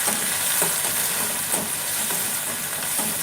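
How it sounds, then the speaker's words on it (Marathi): Cumin, mustard seeds, curry leaves and crushed garlic sizzle steadily in hot oil for a peanut chutney tempering, a loud continuous crackle with sharp popping bursts scattered throughout and no talking. "तर आता हे तुम्हाला आवाज येतच असेल तर माझी जिरे मोहरी तडतडली आहे."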